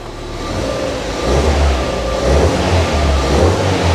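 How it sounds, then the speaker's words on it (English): A Ford Fiesta ST180 engine revs up in several rising surges, a deep throaty drone swelling and easing back between pushes. "Sounds so good, this engine as well."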